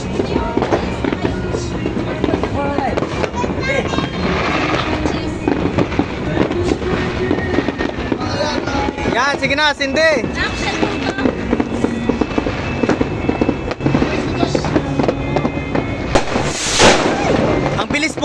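New Year fireworks burst and crackle continuously in a dense, loud barrage, with people chatting and calling out over the explosions.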